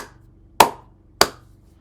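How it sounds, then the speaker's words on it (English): Two sharp, isolated hand claps about half a second apart, close and crisp, with near silence between and no voices. "Good extra 2 seconds of clapping."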